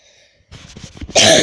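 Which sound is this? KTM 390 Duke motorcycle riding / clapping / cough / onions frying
cough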